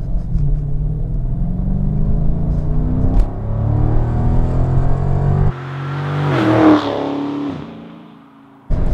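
A Dodge Charger R/T Scat Pack's naturally aspirated 6.4-liter Hemi V8 rumbles close and loud, climbing through revs in a rising drone before cutting off sharply, then swelling into a second burst that drops away at the end.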